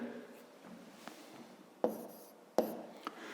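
Chalk or pen writing out a formula by hand during a 5th-grade maths lesson, faint scratchy strokes with two sharper taps, close and quiet with no talking.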